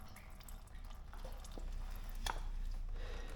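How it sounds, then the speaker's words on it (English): Engineice coolant being poured through the radiator cap of a CForce 500, with a low steady trickle and scattered drips and splashes close by. "but just dumping some through the radiator"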